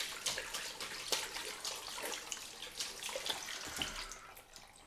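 A tap runs steadily into a sink while shave cream is rinsed off after a head and face shave, giving a faint, close splashing flow with small irregular spatters and no talking.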